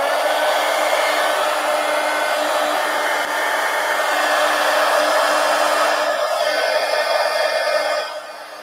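A hair dryer blows on painted collage paper, a loud, steady whir that runs unbroken for about eight seconds before dropping off slightly at the end, with no talking.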